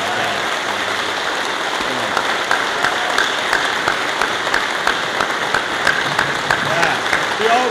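An audience at a Job Corps event in Ottumwa claps for an honoree. The applause holds steady at moderate volume, with a few sharper individual claps standing out toward the end.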